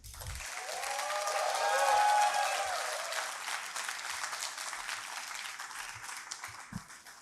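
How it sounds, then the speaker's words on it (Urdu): An audience at an Urdu conference applauds a young reader after his recitation, a full wave of clapping that swells, peaks and slowly thins out, with scattered low thumps and faint voices near the end. "میں یہاں ملتمس ہوں آپ سب اس نوجوان کے لیے تالیاں بجائیں گے"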